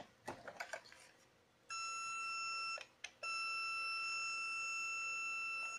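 A stud finder's loud, continuous electronic beeping tone holds steady for several seconds, briefly cutting out once before resuming without a break.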